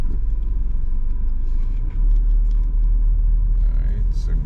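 A car engine in a driving simulator rumbles low and steady for several seconds, loud and continuous, with a faint hiss of road noise above it and no voices.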